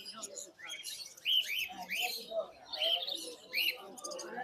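Exotic birds such as finches chirping at a bird market, a busy overlapping chorus of high tweets and short calls, moderately near with no talk.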